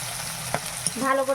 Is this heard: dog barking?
no